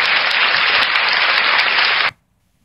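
Dense, steady applause from a crowd, loud and continuous, cutting off abruptly into silence.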